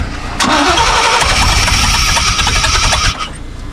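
Engine of a 1988 GMC OBS pickup truck, sitting unused for over twenty years, cranks briefly then catches and runs loud and close, holding a steady rough rumble for several seconds before dropping off.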